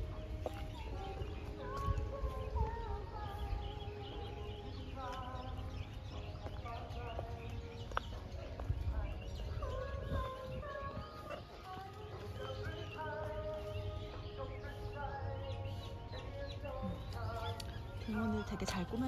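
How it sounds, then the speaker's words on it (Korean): Birds call and chirp with varied, repeated phrases in a park in Chiang Mai, Thailand. The calls are moderately near and layered over a constant outdoor background hum. "평화롭죠? 새소리도 들리고."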